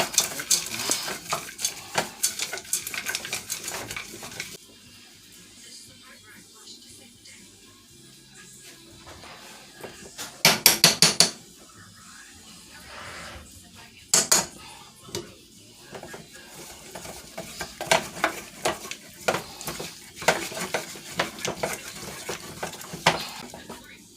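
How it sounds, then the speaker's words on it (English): Chocolate melting in a pot with a teaspoon of coconut oil, stirred with a utensil in repeated scraping strokes and clinks, louder near the start, quieter through the middle, with a few sharper bursts and some talking. "Keep stirring that chocolate."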